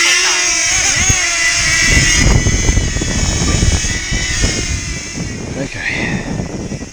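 A small DJI Neo drone lifts off and flies outdoors, its propellers producing a steady high-pitched whine that shifts in pitch as it moves, with someone talking over it.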